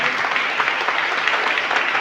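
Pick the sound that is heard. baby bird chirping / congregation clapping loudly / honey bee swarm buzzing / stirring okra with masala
congregation clapping loudly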